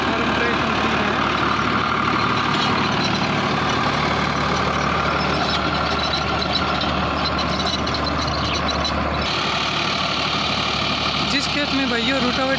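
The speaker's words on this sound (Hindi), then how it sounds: "Farm track 60 power max T20 55 HP category का ये ट्रैक्टर है।" A Farmtrac 60 Powermaxx T20 tractor of the 55 HP class runs in a field pulling a rotavator, its engine droning loud and steady throughout, with someone talking over it.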